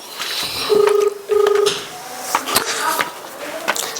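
Two sustained electronic dial tones sound in succession, each about a third of a second long, followed by faint clicks and background noise.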